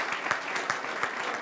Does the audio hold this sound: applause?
yes